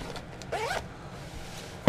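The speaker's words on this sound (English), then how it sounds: "Then you have a pouch here with a zipper," A zipper on a soft drone case pouch is pulled once in a quick, close zip of under half a second, followed by quiet handling and a short thump at the end.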